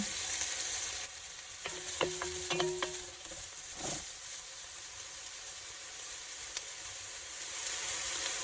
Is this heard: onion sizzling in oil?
yes